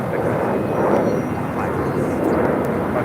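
A British Airways airliner arriving on the south side at LAX makes a broad, steady roar of jet engine noise that fills the whole stretch, loud and sustained, with talk over it.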